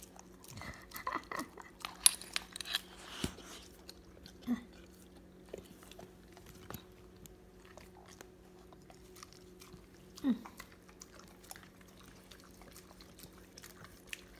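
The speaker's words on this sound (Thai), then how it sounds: "โอ้พี่เบลกินจริงจังมาก" A pit bull chews its breakfast in faint, scattered crunches and bites, with soft clicks and a quiet background hum.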